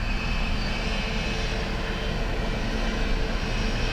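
A landing aircraft on runway 28 left at Dublin Airport, a loud constant engine roar with broadband rumble that holds steady and close throughout.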